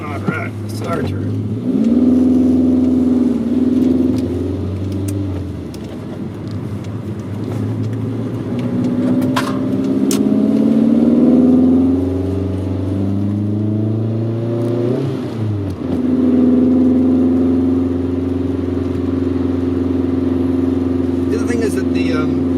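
A 1983 VW Rabbit GTI engine revs while driving, loud and close from inside the car, with the pitch climbing and falling through several gear changes and a droning hum, mostly without talk.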